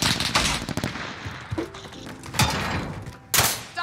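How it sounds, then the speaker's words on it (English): Rapid automatic gunfire in Call of Duty Warzone, a dense rattling barrage with sharp bursts near the start, middle and end, loud and close with continuous game noise behind it. "Stop shooting at me."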